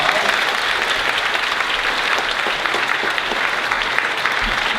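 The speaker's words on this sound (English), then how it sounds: "Let's give them a round of applause." Audience applause fills a youth ministry event hall after a stage sharing, a dense, steady clapping from a crowd that holds loud and even for the whole stretch, with no talk over it.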